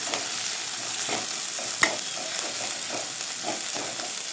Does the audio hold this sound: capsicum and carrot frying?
yes